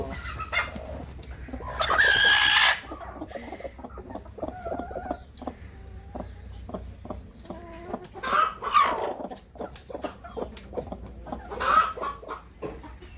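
Native country chickens cluck repeatedly in a coop with egg trays, with a rooster's loud crowing burst early on and several sharper squawks later, no voices.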